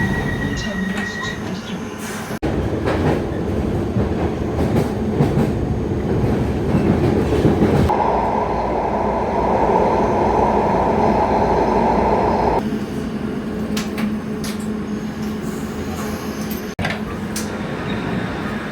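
A train to Heathrow Terminal 4 rumbles along steadily for a long stretch, its wheels clattering and squealing, loud and close, with brief muffled voices at times.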